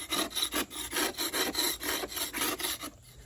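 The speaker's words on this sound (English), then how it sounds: "Step one is going to be obviously scraping the loose paint." Scraper drags loose paint off old wood in a steady rhythm of about a dozen close, rasping strokes, each a gritty scratch, stopping just before the end.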